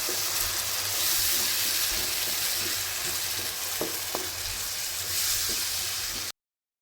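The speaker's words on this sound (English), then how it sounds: "Stir-fry and cook the tomatoes mixture for 3 to 4 minutes." Coarsely ground tomato mixture sizzles and fries in hot oil as it is stir-fried, a continuous crackling hiss with a few sharp clinks of a spoon against the pan before cutting off.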